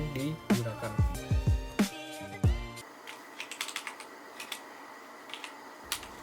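Typing on an AKKO 3084 75% wireless mechanical keyboard with pink switches, paired over Bluetooth to an iPad: a close, loud burst of clacky keystrokes at first, then lighter, sparser key taps continuing alone.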